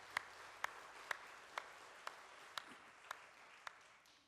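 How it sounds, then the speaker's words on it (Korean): A church congregation gives a faint, distant round of thanks applause during a Sunday worship service, with a few sharper claps standing out at a steady pace of about two per second over a soft, diffuse background. "귀한 찬양들을 위해서 감사의 박수 한번 합니다."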